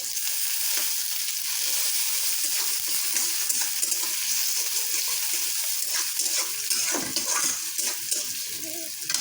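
Sliced onion frying in hot oil with bay leaf, cardamom, cinnamon, cloves and black peppercorns for a chicken curry: a continuous, close, crackling sizzle with occasional stirring scrapes and no talking.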